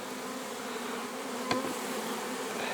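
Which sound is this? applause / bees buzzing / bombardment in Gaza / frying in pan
bees buzzing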